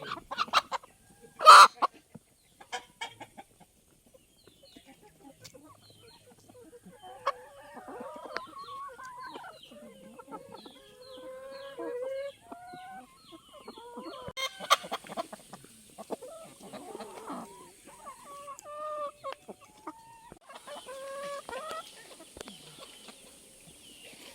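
Pet chickens cluck and murmur softly while being fed, with scattered near and far calls, a rooster-like squawk early on and occasional scratching and clattering sounds throughout.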